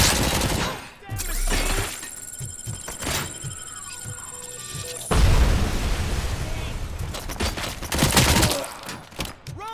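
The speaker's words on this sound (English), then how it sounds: "Rolling grenade!" A rolling grenade explosion in the shooter RoboCop: Rogue City, heavy booms and thuds landing amid rapid automatic gunfire, loud and close, with shouted voices over the combat.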